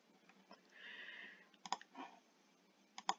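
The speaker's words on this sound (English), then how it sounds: "I need to click away so this isn't selected" Faint computer mouse clicks while drawing in SketchUp, two small bursts of quick clicking, close but quiet, over a soft hiss of room noise.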